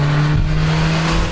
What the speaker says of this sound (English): What the CVT does do, though, is it exacerbates engine noise.